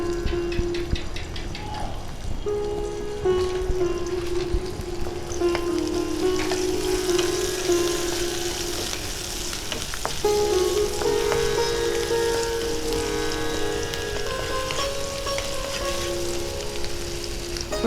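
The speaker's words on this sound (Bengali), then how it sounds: "রসুন কুচি দিয়ে দিচ্ছি" Chopped garlic fries in a little leftover oil in a pan, giving a steady, close, crackling sizzle with occasional stirring and no voices.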